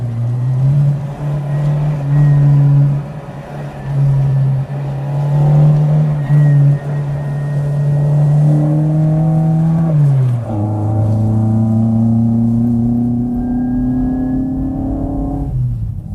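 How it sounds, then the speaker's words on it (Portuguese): Fiat 131 Abarth rally car engines roaring at speed, a loud close engine note holding high, dipping briefly at a gear change, then climbing again. "vou te mostrar um trecho de alguns 131 em ação nessas estradas"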